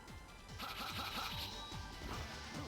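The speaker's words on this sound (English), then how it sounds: "Let's just try to break the glass." Glass being attacked and smashed in the Mega Man ZX Advent game, a steady run of bright crashing and striking hits under game music, with low bouncy sound effects repeating throughout.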